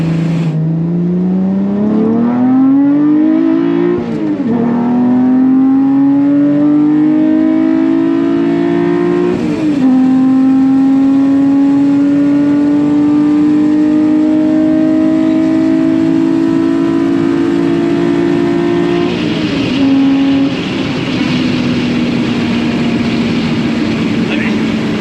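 A Toyota MR2 with a swapped-in 3.5 V6 revs steadily and loudly up close, its engine note climbing in several pulls and holding high, with people talking over it throughout.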